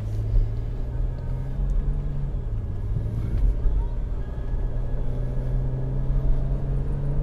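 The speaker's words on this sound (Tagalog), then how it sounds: "Pakinggan nyo, maingay yung engine." A 1998 Mitsubishi Galant sedan's engine revving, heard as a loud, steady low drone with a sustained deep hum that holds throughout, close and continuous with no talk over it.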